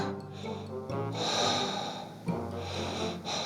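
A slow, deep breath exhaled loudly and close, straight toward the listener. It comes as a long, airy, sustained rush broken by a short pause, with no speech.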